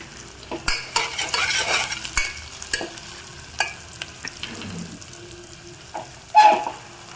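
Onions frying in a pan for a Sunday mutton curry, a steady close sizzle broken by sharp scraping stirs and spoon clinks against the pan, with no talking.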